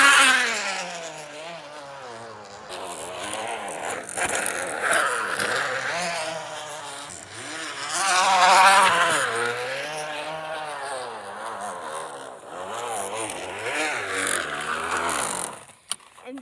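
A bicycle modified to imitate a dirt bike rattles out a loud, continuous engine-like buzz that rises and falls in pitch like revving, sustained for the full stretch.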